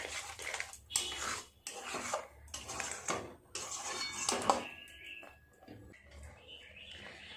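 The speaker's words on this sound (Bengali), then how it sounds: "যতক্ষণ পুরো দুধটা না শুকনো হয়ে যায় ততক্ষণ আমাকে এইভাবে নাড়তে হবে।" Milk and sugar for kalakand are stirred in a pan until the milk dries, making intermittent metallic scrapes and clinks in uneven bursts, fairly faint and close, with soft chirps in the background.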